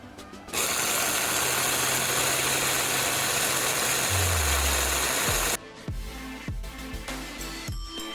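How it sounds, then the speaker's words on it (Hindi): A blender runs loud and steady while it blends pomegranate seeds into juice. The motor whines constantly for about five seconds, then cuts out and leaves a few knocks and rattles. "अब डालते हैं जी इनको ब्लेंडर में और इन्हें अच्छी तरह से ब्लेंड कर लेते हैं"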